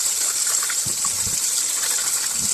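Steady rush of running water, like a tap flowing, with soft knocks and splashes of vegetables being rinsed underneath.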